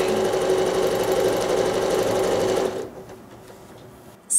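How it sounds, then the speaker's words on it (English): A sewing machine stitches a stippling quilt design in a continuous, fast whirring run for about three seconds, then stops abruptly into near silence, with a brief clunk at the end. "now I can wiggle into that corner and start that last row of stitching"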